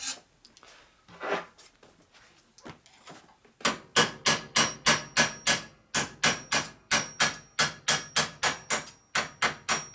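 Hammer tapping out a hydraulic lifter block guide from a 1953-84 Harley shovelhead or panhead engine, a few scattered knocks followed by a fast, steady run of about twenty sharp, loud metallic strikes.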